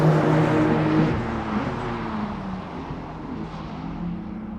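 A 2025 Porsche 911 on Cup 2 tyres drives on a track, a car engine note rising and then fading, with tyre and wind roar and no talking.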